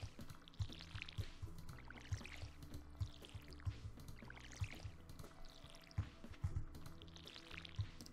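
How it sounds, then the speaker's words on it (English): Crops being watered in Stardew Valley make a quiet run of repeated pouring and dripping splashes at a steady pace, set over a soft musical background. "Water our little crops."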